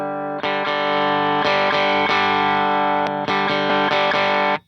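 Electric guitar through a Benson Preamp pedal with extra drive, playing sustained, gritty chords with a few brief breaks, loud, close and without any voice.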